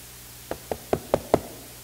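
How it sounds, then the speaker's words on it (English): Five sharp knocks on a door in an even, slightly quickening rhythm, close and clear, with no voices over them. "And there was this knocking at the door."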